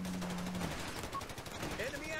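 Bursts of gunfire crackle rapidly from a real-time strategy battle, with submachine gun and rifle squads trading shots, the volleys brief and layered under ambient game sounds.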